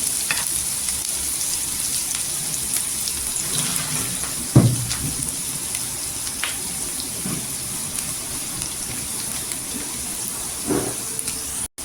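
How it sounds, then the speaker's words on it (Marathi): Garlic fries in two to three spoons of oil until golden, a loud, continuous close-up sizzle with occasional spatula scrapes and a clack midway, heard without any talking. "लसूण इथं आहे ना परतून घ्यायची तेलावर, गोल्डन कलर करायचा पूर्णपणे"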